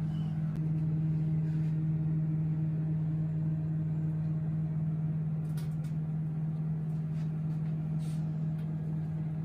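A microwave oven cooking fish gives a steady, even electrical hum with a low drone, running continuously and unchanged for the whole stretch, without any voices over it.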